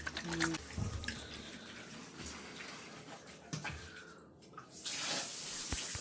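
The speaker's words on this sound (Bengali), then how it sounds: "আমাকে একটা একটা ঘষে ঘষে ঘষে ঘষে ধুতে হবে।" Fish being scrubbed and rinsed by hand under a running tap, a steady spray of water with intermittent splashing and clatter, loud and close, ending in a stronger gush of flowing water.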